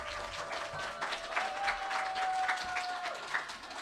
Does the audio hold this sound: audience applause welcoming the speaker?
yes